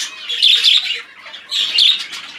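Breeding birds squawking while being handled and moved between flights, two loud close bursts of harsh high-pitched calls with a short lull between them.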